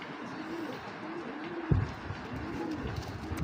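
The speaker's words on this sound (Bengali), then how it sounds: "কবুতরগুলো খুবই ভালো।" Grizzle racing homer pigeons coo softly in repeated rising calls, with a brief thump partway through and low room noise behind, no talking.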